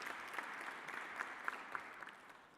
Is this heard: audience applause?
yes